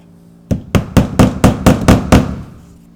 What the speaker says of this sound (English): I'm going to secure this to the deck with nailing clips.